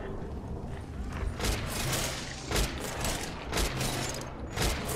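Dense gunfire rattles continuously in the online western shooter Red Dead Online, with repeated sharp shots and bursts layered over a steady din of battle, loud and sustained without a break.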